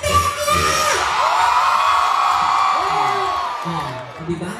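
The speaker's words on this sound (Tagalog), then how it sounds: "Magpalakpakan po na may kasamang sigawan na nagsasabing pangit si Tekla!" A festival crowd in Capiz at Hil-O Hil-O Festia 2025 erupts in loud whoops, shouts and cheering that carry for several seconds before fading, with a voice briefly heard at the end.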